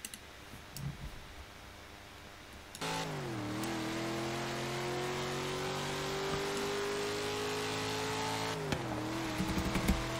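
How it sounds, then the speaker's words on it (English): After a quiet start, a big block V8 engine sound from the Roblox game Greenville kicks in, droning loud and steady as revs climb slowly, then drop and rise again near the end. "we can actually sound like we're driving a big block V8"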